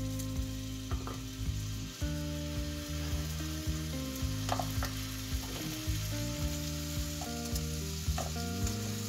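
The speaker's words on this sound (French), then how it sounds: "je vais rajouter mes rondelles d'oignon" Onion rings sizzle in a pan as the base for a fish tagine, a loud continuous frying hiss with occasional scraping stirs and a low steady hum underneath, close by with no talk.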